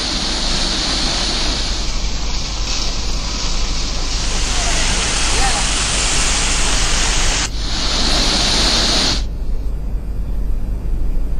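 High waves of rushing floodwater during heavy-rain flooding in India, a loud continuous roar of surging water that fills the clip throughout, with a brief shift in texture near the end.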